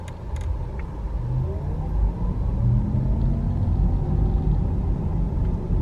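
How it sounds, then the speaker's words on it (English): A Porsche Taycan's electric motor gives off a low, steady mechanical hum and rumble with the sound enhancer turned off, fairly loud and constant, with faint creaks and no voices. "This is just a natural hum and sound of the electric motor."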